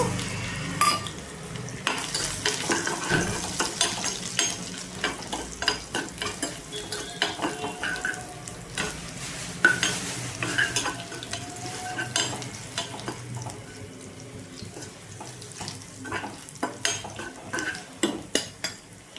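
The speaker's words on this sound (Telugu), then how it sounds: "వేగిందండి. చిన్నులపై రెబ్బలు వేద్దాము." Shallots fry in oil with tempering seeds and red chili while a spoon stirs and scrapes the pan, a continuous close sizzle broken by frequent metallic clinks.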